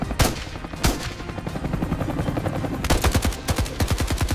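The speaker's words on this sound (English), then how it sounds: "Gunshots rang out in the midday sun, urgent, decisive, full of drama." Rapid bursts of gunfire crack out in quick rhythmic volleys during a hunt for alligators and wild boars, a sharp pair early on, then a sustained rattling string of shots, loud and close.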